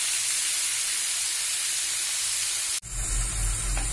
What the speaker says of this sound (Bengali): টমেটোটা দিয়ে আমি একটু নাড়ব